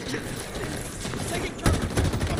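Gunfire in the video game Halo Infinite, with a steady, dense crackle of shots mixed with game sounds and a sharper burst near the end, under a voice.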